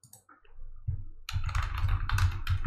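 Rapid, close typing on a computer keyboard, starting with a few faint soft taps before a dense burst of crisp key clicks that continues to the end.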